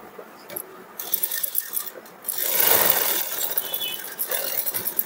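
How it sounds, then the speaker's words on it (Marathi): A sewing machine stitches a dart on a blouse front piece, with a short steady run of needle clatter in the middle and softer handling noises before and after. "आता आपण याला इथं डॉटला शिलाई मारून घेऊया."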